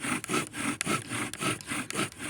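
A friction-fire spindle spins against a white pine board in a regular back-and-forth rhythm, a close, dry, rasping rub repeating about twice a second.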